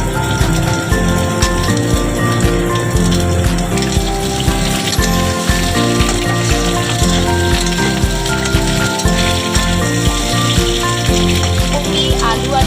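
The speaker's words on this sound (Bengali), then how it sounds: "কপি, আলু আর কুমড়ো মোটামুটি হালকা ভাজা হয়ে গেছে" Cauliflower, potato and pumpkin frying in oil sizzle with a loud, continuous bubbling crackle, with dense spitting and popping throughout and faint background music underneath.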